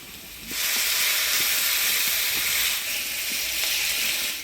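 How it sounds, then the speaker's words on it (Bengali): Potatoes stirred and frying in tempered spiced oil for a Bengali fish curry, giving a loud, steady sizzle that jumps up after a brief quieter start and holds without pause, with faint scrapes of stirring under it. "ফোড়নের তেলে আলুটা ভালো করে নাড়াচাড়া করে নিলাম"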